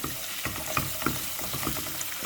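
Chicken hearts and liver fry in a pan for a spicy chicken-liver dish, with a steady sizzle under repeated close scraping and stirring clicks of a spoon, no voices.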